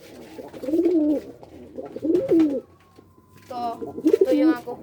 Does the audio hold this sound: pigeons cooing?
yes